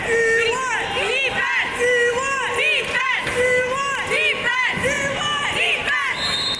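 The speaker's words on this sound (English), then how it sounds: "There are the girls cheering on the boys for some defense" Girls cheer on a boys' 18U water polo team in an NCL match, Wave vs CAMO, with loud, overlapping high-pitched shouts and yells that keep going for the whole clip.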